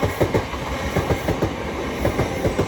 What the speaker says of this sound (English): going to pass will be another pair of South Eastern 465s going from London Charing Cross to Gravesend